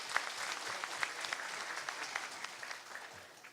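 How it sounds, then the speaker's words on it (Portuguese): Faint, steady applause from an audience at a regional union meeting, a soft dense patter of many hands with occasional sharper claps, slowly fading at the end. "Pedimos mais uma vez uma salva de palmas"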